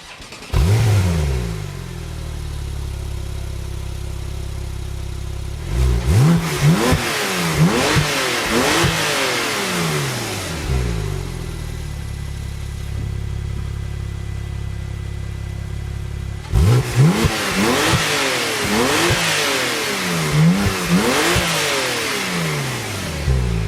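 A Porsche 911 Turbo S (991.2) exhaust idles with a deep rumble, then revs hard twice in sharp bursts, close up and loud, settling back to idle between.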